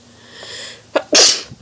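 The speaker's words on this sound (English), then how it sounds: "I don't like sneezing because it hurts my tailbone." A single loud close sneeze from a woman, a short inhaled buildup followed by a sharp explosive burst.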